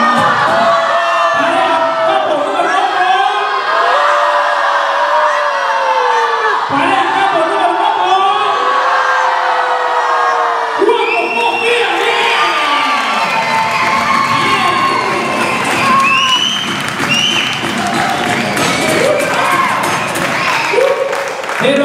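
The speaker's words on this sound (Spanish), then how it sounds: "The couple with more applause will be the winning." Hotel audience at an evening entertainment couples contest cheering, whooping and clapping loudly, with shouting voices and crowd roar swelling in waves, mixed with talk.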